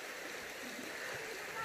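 Shallow stream flowing over low water through a forest, a steady broadband rush and gurgle heard up close and continuous, with no talking.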